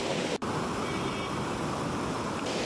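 A waterfall at Kokernag, Kashmir, pours as a steady, loud, broadband rush with a brief dropout near the start, and no other sounds stand out.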